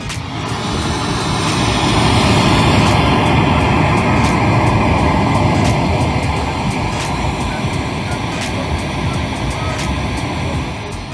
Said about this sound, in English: I pulled up a YouTube video called 10 Hours of Pink Noise.